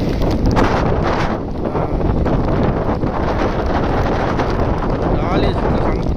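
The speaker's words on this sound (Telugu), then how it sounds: "గాలి సంపుతుంది మొత్తం." Strong wind buffets the microphone at the Khumbe waterfall viewpoint in Maharashtra, a loud, constant low roar that fills the whole stretch without letup.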